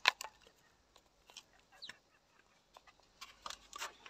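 A sick hen gives scattered, soft clucks close by, short and irregular with quiet pauses between them.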